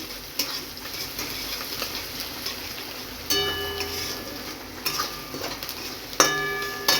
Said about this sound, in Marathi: कांदा व्यवस्थित परतून झाला आपला आता आलं लसूणची पेस्ट घालूया मिक्स करून घ्यायचं